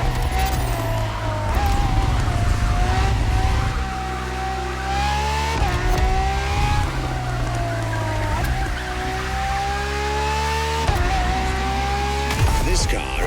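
A Ferrari FXX K supercar, a track-focused version of the LaFerrari, drives laps in The Crew Motorfest, its engine revving and rising through repeated gear pulls with loud, steady presence while a narrator talks over it.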